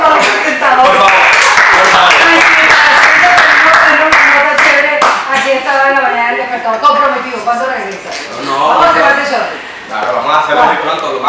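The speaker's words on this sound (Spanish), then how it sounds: "¡Aplausos para los presentadores!" A studio audience claps for the presenters of a live Telecaribe morning TV show. Loud, overlapping voices and music-like tones sit on top of the clapping, which swells and dips across the clip.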